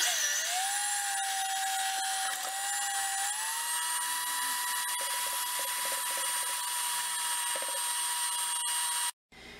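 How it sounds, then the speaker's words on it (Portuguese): A stand mixer beats plain milk and sugar for a glaze: a steady, loud motor whine with stacked tones that rises slightly in pitch early on, runs continuously close by without talk, then stops abruptly near the end. "Então agora a gente vai ligar a batedeira"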